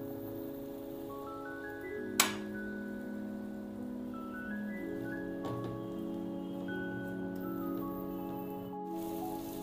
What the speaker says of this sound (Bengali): আলুটাকে আমি ফার্স্টে ভেজে নিচ্ছি।